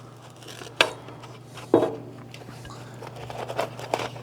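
Knife slicing through bread on a board, sharp crunchy cuts with a couple of distinct louder strokes and lighter scraping between them, close and alone over a low hum.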